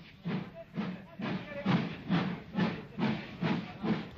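A King Arthur class steam locomotive hauls the down Southern Belle express, giving rhythmic, evenly spaced exhaust chuffs and hissing steam, about two beats per second, close and moderately loud.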